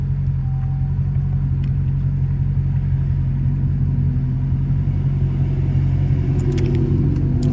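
A low, steady Hellcat exhaust rumble drones from inside the moving car through a vented sunroof, constant and heavy, with faint higher whines near the end.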